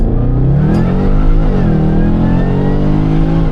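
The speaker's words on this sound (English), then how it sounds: "We go down to first gear and we go." A 500 hp car engine revs hard in first gear and climbs steadily in pitch as it accelerates, loud and close, with no voices over it.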